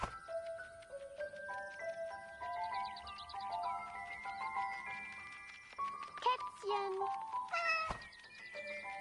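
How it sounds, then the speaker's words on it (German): A cat meows in the video game 11-11 Memories Retold, a few short meows woven among soft melodic music notes and chimes, fairly faint, with a voice speaking nearby. "Kätzchen."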